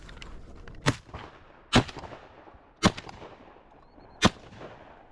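Four loud shotgun blasts spaced about a second apart, fired at goldeneye ducks while hunting on public land, each a sharp crack with a short outdoor tail.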